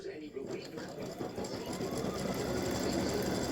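A sewing machine stitches a star and stripes design in a steady, rapid mechanical whir that stays fairly close and even throughout.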